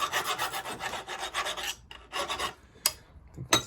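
A hand file rasps back and forth across one end of a metal part from a Suffolk mower, with quick, close strokes in a steady run and then a few separate scrapes.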